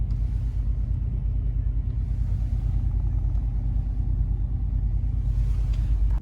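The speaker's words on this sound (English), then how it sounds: "There's Steven reversing, trying not to damage anything." A large RV reversing at a tire shop, a steady low engine rumble idling close by with faint hissy bursts of higher-pitched noise now and then.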